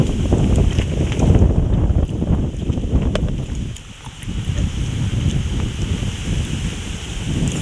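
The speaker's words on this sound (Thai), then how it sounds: "ลมแห้งพัดเขาเย็นไปละ" Dry wind blowing outdoors beside a rural Thai cooking spot, a steady broadband rush buffeting the microphone for the whole stretch with a brief lull near the middle.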